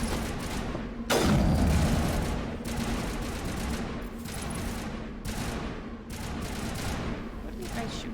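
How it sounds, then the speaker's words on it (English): Gunfire in Mass Effect Legendary Edition: a sharp loud blast followed by bursts of rapid shots and distant firefights, over steady background hum. "What are you guys shooting at?"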